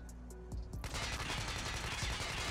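BK57 assault rifle in Call of Duty Mobile fires a rapid, continuous burst of gunfire, loud and dense, kicking in under a second after a brief quieter lead-in and sustaining to the end.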